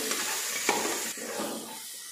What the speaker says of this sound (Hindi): पावभाजी मसाला 3 चम्मच, छान मिक्स करून घेते।